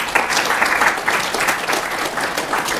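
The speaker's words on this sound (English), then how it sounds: "I hope we'll all give her a round of applause" Audience at a film discussion breaking into applause, a dense, steady patter of many hands clapping together, loud and close, with no voices over it.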